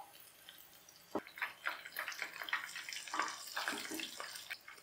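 Chicken drumsticks frying in hot oil, with a bright, steady sizzle and crackle, moderately loud and close, and no talking.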